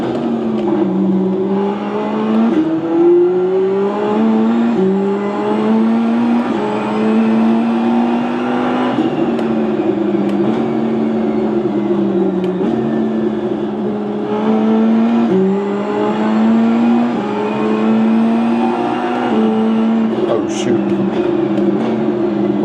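A race car engine in the iRacing sim racing game revs and drops repeatedly through gear changes, loud and continuous up close, with rising pitch sweeps under occasional talk.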